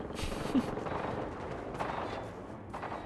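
Gunfire in the video game Generation Zero: a few muffled, distant-sounding shots and bursts rise out of a constant noisy in-game background, spread unevenly across the stretch.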